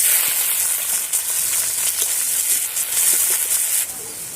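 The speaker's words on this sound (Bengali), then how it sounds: "আমার পেঁয়াজটা ভাজা ভাজা হয়ে গেছে" Sliced onions fry in hot oil in a wok, seasoned with five-spice tempering and dried red chillies, giving a loud, close, continuous sizzle and hiss with no voices.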